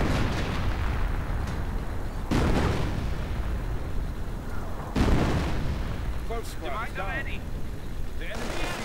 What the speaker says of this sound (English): artillery right on the MG, and the sniper's caught in the middle